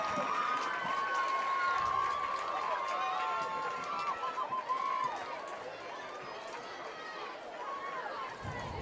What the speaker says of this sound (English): About a round of applause for the Morgan High School dance